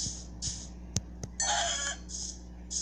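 Blocky farm chickens in Minecraft clucking in short bursts, with a couple of sharp clicks between calls; moderately close, no speech.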